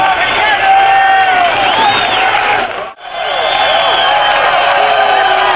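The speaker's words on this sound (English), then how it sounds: "The crowd is not large, but it's an enthusiastic bunch" A small but enthusiastic crowd at a 1985 USFL football game between the Bulls and the Stars cheers and whoops loudly, with a brief drop near the middle before the roar resumes.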